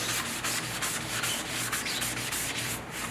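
Sanding by hand on milk-painted wooden furniture to distress it, a loud close scratchy rubbing in quick back-and-forth strokes with no pauses.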